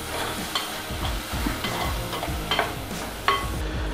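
Turmeric goes into a sizzling fish curry base in a pan for Kottayam-style Kerala fish curry with coconut paste, giving a steady close frying hiss with repeated stirring scrapes and light clinks throughout.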